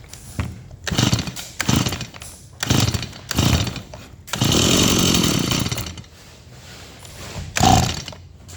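A Stihl MS170 chainsaw on choke is pull-started repeatedly, several loud ratcheting cord pulls in sequence followed by a brief sputtering catch of the engine, close by.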